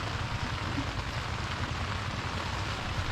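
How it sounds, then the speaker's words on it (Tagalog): Heavy rain pours outside a tent beside the Agos River in Infanta, Quezon, a steady dense hiss with low rumble and no clear breaks, loud and continuous throughout. "Kung maririnig nyo, ang lakas ng ulan sa labas."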